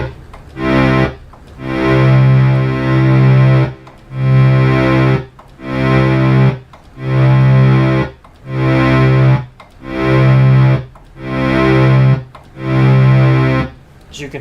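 A restored Memorymoog synthesizer repeats a sustained buzzy, rich note in evenly spaced bursts, with the envelope attack adjusted so the note onsets soften and swell from one repetition to the next.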